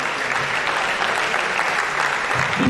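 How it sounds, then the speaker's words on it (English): Sustained audience applause at a Nigerian university alumni reunion gathering, an even, continuous patter of many hands clapping at moderate volume, swelling slightly at the very end. "Let us sustain the applause for the HOD."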